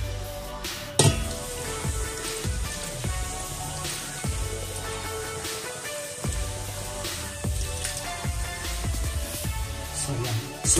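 Chicken boiling in a pot, a steady soft bubbling and sizzling hiss with scattered clinks and knocks, fairly close and alone without speech.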